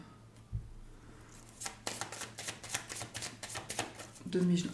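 Tarot cards are shuffled by hand at close range, a run of quick papery riffling bursts with soft taps between them.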